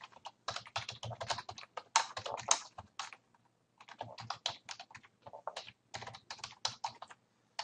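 Rapid bursts of keystrokes on a computer keyboard as a password is entered, close and crisp, in several quick runs with short pauses between them and no talk.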